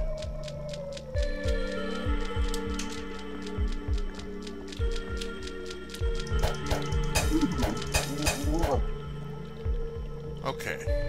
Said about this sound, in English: Bubbling noise.